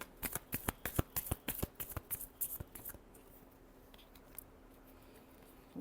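Tarot cards are shuffled up close in a quick series of crisp riffling snaps, about a dozen sharp bursts, before the handling fades to quiet faint rustles.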